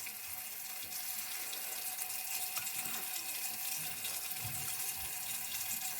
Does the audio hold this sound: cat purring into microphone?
no